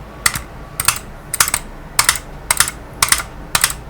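An auto clicker set to double-click rapidly triggers a computer mouse: seven evenly spaced pairs of crisp, close clicks in a steady rhythm, each pair tight and sharp, over a faint background hiss.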